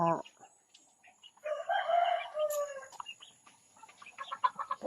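Chickens cluck and squawk nearby in short bursts in a rural province yard, with a rooster's crow in the middle and quiet gaps between calls.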